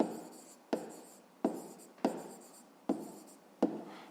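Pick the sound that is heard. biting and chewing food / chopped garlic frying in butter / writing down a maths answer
writing down a maths answer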